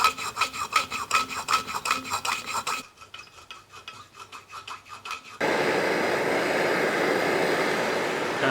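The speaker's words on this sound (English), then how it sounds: "I have to get the original out, which might involve gentle persuasion with a hacksaw." Rhythmic back-and-forth hacksaw strokes cut out an original part on a Series 1 Land Rover during restoration. The strokes are close and scratchy, then give way to a steady, louder hiss.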